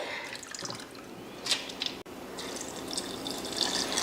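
Water poured into a wet grinder while making dosa batter in a home kitchen, heard as light trickling and dripping with a few brief splashes and a short pause partway through.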